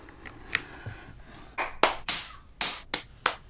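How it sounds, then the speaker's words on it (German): A choir and its musicians clap in unison to synchronise for a sing-along concert, a few soft taps followed by a series of loud, sharp, separate claps with short gaps between them. "Jetzt müssen wir uns synchronisieren, dafür klatschen wir gemeinsam."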